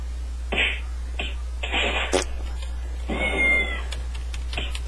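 Cartoonish cat meows from the Kitten Cannon video game, several short and longer mews in quick succession over a steady low hum, with clicks between them.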